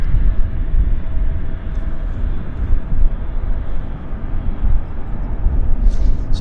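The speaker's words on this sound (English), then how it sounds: "This should be a nice heavy takeoff for us right in front of our very" An Air Canada heavy jet on flight 116 to Toronto takes off at Vancouver Airport, a loud, continuous low roar and rumble that holds strong throughout, close by and with no voices over it.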